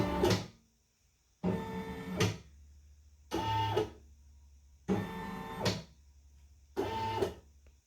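An embroidery machine traces the outline of the design area around the hoop, making five separate bursts of whirring motor noise with short quiet gaps between them.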